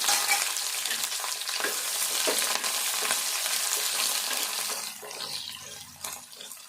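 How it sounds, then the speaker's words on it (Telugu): Sliced onions frying in a tempering of chilli, mustard seeds and cumin for prawn curry, a steady close sizzle with scraping stirs that quiets a little toward the end. "ఈ ఉల్లిపాయ కూడా వేగాలి."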